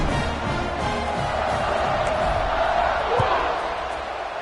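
A stadium crowd at a football game roars steadily around a kickoff, a broad sustained swell of noise that holds throughout with a commentator talking over it.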